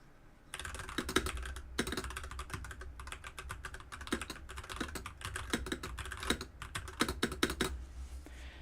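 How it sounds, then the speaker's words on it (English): Rapid, continuous typing on a mechanical keyboard with blue clicky switches, sharp bright clacks in an uneven rhythm, close up, with a low hum underneath. "This one has blue clicky switches in it."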